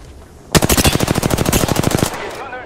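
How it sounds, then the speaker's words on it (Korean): A rapid burst of automatic gunfire in Apex Legends rattles off roughly twenty close, loud shots in about one and a half seconds, then stops. "적을 향해 사격한다"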